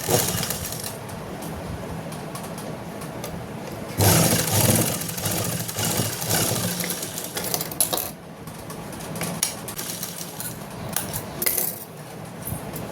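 A sewing machine runs steadily while stitching a blouse, giving a dense, continuous mechanical whir that grows louder for a few seconds midway and then settles back, close and with no voice over it.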